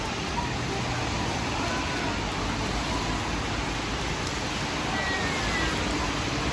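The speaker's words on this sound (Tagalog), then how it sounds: "tsaka umuulan pa, grabe" Rain falling outdoors near the Merlion in Singapore, a steady, even hiss of drops that fills the whole stretch without letting up.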